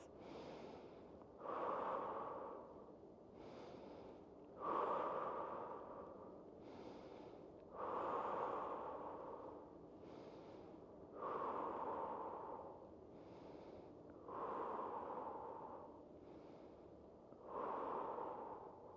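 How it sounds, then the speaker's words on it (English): Slow guided breaths drawn in through the nose and pushed out through the mouth during a stress-reset exercise, six audible cycles in a steady rhythm, each inhale a soft sniff and each exhale a louder airy rush, close and clear with no talking. "Breathing in through your nose and out through the mouth, 6 breaths."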